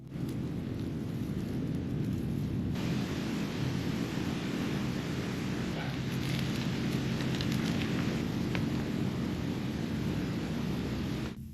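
A steady crackling roar of a campfire burning very dry wood outdoors on an island, broadband and continuous, with faint pops and snaps scattered throughout and no voices.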